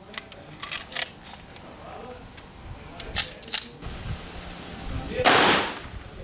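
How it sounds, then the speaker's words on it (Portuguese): A single loud, sharp .44 Magnum revolver gunshot fired at a helmet bursts out near the end, preceded by scattered quiet clicks and handling noises close by. "Vamos lá, segundo disparo."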